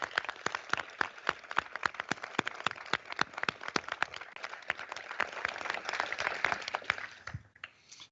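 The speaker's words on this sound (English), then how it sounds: "I think we should give everybody a round of applause" Audience applause at the 2019 Veteran of the Year ceremony in El Paso County, a room of scattered individual claps forming a steady patter that swells slightly before fading out.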